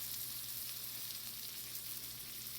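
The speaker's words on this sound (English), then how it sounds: "Here it sizzle." Steady, bright crackling sizzle of a hot dog frying in a skillet, continuous and close, with no talking.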